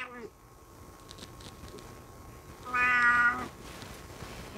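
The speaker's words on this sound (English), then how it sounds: "However, I am cursed by a screaming kitty." A house cat meows loudly once in a drawn-out, insistent cry near the microphone, preceded by quieter room sound and a person talking.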